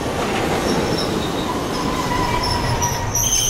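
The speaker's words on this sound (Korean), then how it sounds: "덜컹거리며 길을 쫓는 세련되진 않지만 설레는 소리. 타인의 시선 따윈 관심 없다는 듯 기차는 간이역을 스쳐 지나갑니다." A train rattling past a small rural station, loud and close, with a steady rumbling clatter of wheels on track and faint high metallic squeals drifting over the noise.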